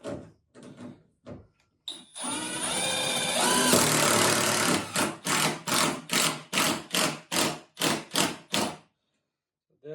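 A screw is driven through a bathroom wall into wood blocking during a mobile home remodel, with a long continuous drill whir followed by a rapid series of about a dozen short, evenly spaced bursts, close and loud.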